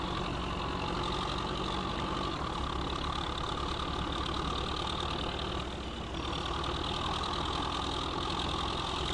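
A Farming Simulator 15 tractor working a cultivator: a steady, loud engine drone with a knocking mid-range chug, continuous throughout with a brief dip near the middle.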